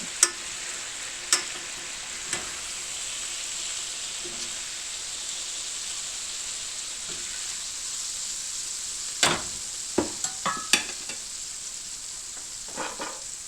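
Swiss steaks sizzle steadily in a pan over medium-high heat, a continuous bright frying hiss broken by several sharp clicks and scrapes of utensils against the pan.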